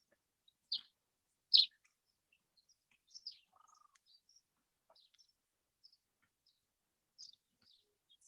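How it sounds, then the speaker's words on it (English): Birds in enclosures at a lion habitat ranch give sparse, sharp chirps and short calls, a few louder tweets among fainter scattered notes in an otherwise quiet setting. "So we have a number of other birds here."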